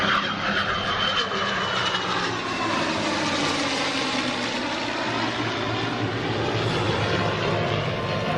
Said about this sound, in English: World War II era P-51 Mustang.